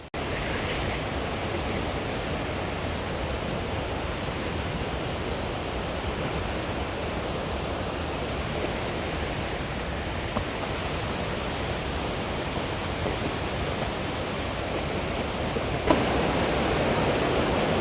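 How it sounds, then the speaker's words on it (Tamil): Kakabeka Falls in Canada roars as a broad, steady wash of rushing water, loud and unbroken from start to finish. "இதுதாங்க அந்த ஃபால்ஸ்."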